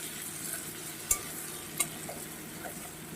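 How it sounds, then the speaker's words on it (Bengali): A spoon stirs potatoes seasoned with salt and turmeric in a sizzling pan, soft scraping under a constant fry with two sharp metallic clicks near the middle; no one speaks. "আলুটা দিয়ে একটু নাড়িয়ে চাড়িয়ে দেব"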